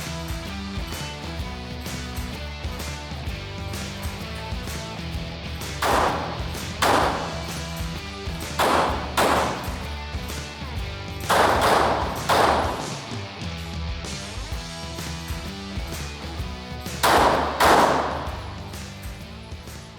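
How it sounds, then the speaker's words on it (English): Pistol shots fired on a home defense shooting course, several sharp broadband bursts spaced a few seconds apart, standing out over a steady background hum. "I am going to engage it with the pistol"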